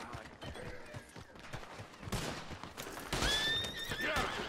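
A horse in Red Dead Redemption 2 lets out a loud, rising whinny near the end, preceded by galloping hoofbeats and bursts of gunfire in a noisy chase.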